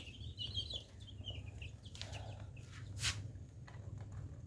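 Almost three-week-old chicks of an all-black chicken breed cheep and cluck softly nearby, scattered high peeps over a low steady background rumble, with a couple of brief rustles.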